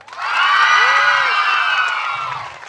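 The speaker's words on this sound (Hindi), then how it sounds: "एक बार सिर्फ महिलाएं ताली बजाकर चिल्लाकर" Women in an audience at a religious gathering cheer and shout together in one loud burst that swells quickly, holds for about two seconds, then fades.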